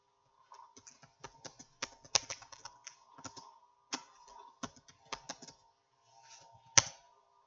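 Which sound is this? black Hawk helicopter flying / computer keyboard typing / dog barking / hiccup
computer keyboard typing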